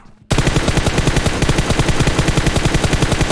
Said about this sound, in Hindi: ये पीछे से भी बंदे फायरिंग कर रहे थे।